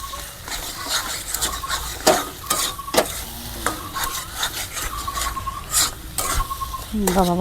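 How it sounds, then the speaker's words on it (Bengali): Bottle gourd and ground rice flour stirred in a frying pan in a village kitchen, with repeated scraping strokes of a spatula over a steady sizzle and a few metallic clinks, close and fairly loud. "আমি কিন্তু এখন দিয়ে দেব। ভালো করে নেড়ে চেড়ে দেবো।"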